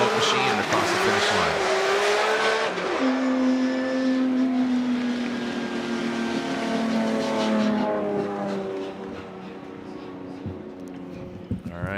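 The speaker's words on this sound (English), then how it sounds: "Look at that handbrake pull, and then back on the smoke machine and across the finish" A Formula Drift pro car at a knockout qualifying round in St. Louis, its engine wailing and tires squealing through a handbrake-pull drift, loud and sustained with pitch sweeping as it slides, under excited commentary.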